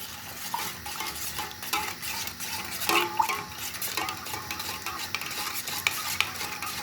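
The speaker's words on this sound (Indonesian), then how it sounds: "Kita aduk-aduk dulu." A spoon stirring liquid in a container during a nail quenching and heating lab, with soft irregular scraping and clinking strokes and light sloshing, faint and close.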